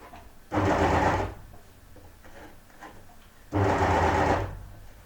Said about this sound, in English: And let's stitch a little bit and see how much that gathers.